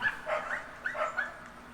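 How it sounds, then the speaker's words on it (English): Several dogs bark and yip in quick overlapping bursts at hole 1 of a disc golf course, fairly close and moderately loud, with a faint background hum. "don't forget about the dogs of hole 1 at Northside"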